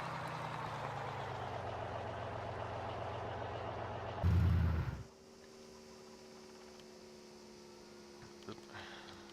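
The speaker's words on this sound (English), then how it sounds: "I'm going to park the truck right here." A truck engine idling in Farming Simulator 17, a steady low rumble with hum that swells briefly before cutting off, leaving a quieter faint electrical hum.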